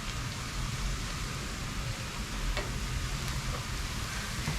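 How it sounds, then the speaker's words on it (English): A generous amount of garlic fries in a pan with a steady, crackling sizzle, close and even throughout, with faint occasional pops and no voices. "It's a lot of garlic, and while it's frying here, I could smell that garlic scent."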